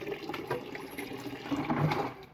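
Water is poured into a container, making a soft, uneven splashing and gurgling stream for a couple of seconds, faint and close, ending in a sharp knock.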